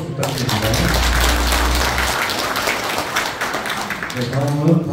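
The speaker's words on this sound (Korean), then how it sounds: "대회사를 해주신 지정회장님께 큰 박수 부탁드립니다." A hall audience at a civic association's members' convention applauds the chairman, a continuous wash of clapping that sounds loud and diffuse, with a low hum early on and voices emerging near the end.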